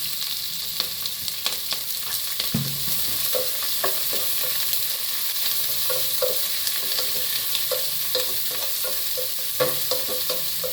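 Onion, ginger, green chili and curry leaves for poha upma fry in a pan with a loud, continuous sizzle, punctuated by scattered spoon-stirring clinks and scrapes, with no talking.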